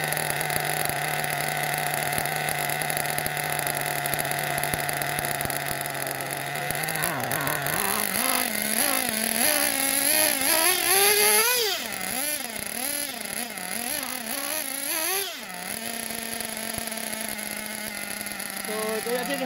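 A Hobao Hyper SS 1/8 scale RC car with a .28 turbo nitro engine runs continuously with a buzzy, high-pitched drone. Partway through, the throttle blips in wavering surges before the engine settles back to a steady idle.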